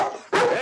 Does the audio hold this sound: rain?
no